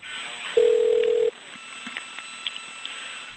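A single steady electronic telephone tone sounds for under a second, followed by faint line noise and a few small clicks.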